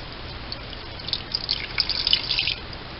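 Water pours into a pot with a roast and carrots, a faint, bubbly trickle and splash that swells briefly in the middle and fades, with no talk.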